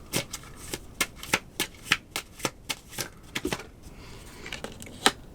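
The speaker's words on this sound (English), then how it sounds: "I'm using these cards, and they're just a regular deck of cards." A regular deck of playing cards being shuffled close up, giving a rapid series of crisp riffles and snaps in an uneven rhythm, with no talking.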